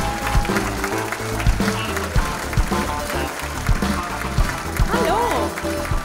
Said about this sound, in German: Bitte einen großen Applaus für aus Berlin Alice Köfer